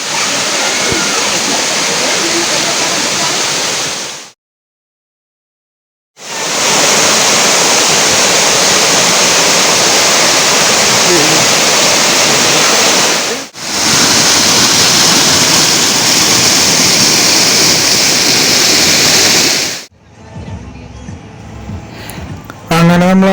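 Roaring waterfall near Mankulam, a loud, steady rush of falling water heard up close, cut by a brief silent gap and a short dip before a quieter, different scene at the end.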